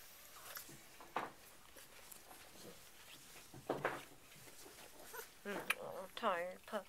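Young Bullmastiff puppies whimpering and squeaking in a nursery, soft high whines scattered through the clip, a few louder near the end, with quiet talk and light shuffling underneath.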